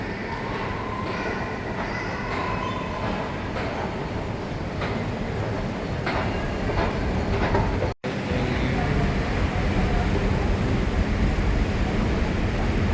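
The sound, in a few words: Jakarta MRT train running on rails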